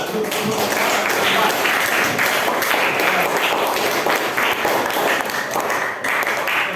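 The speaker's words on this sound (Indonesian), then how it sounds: "Tepuk tangan." Students in a classroom applaud the best-scoring groups. The clapping is loud, dense and sustained, with voices mixed in.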